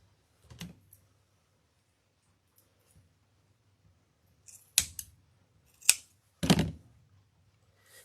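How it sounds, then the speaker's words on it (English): Scissors trimming excess material off the back of a DIY fall tree-of-life wreath: a few sharp, separate snips and clicks close by, with quiet pauses between them and no talking. "then you come in with your scissors and just trim the excess off."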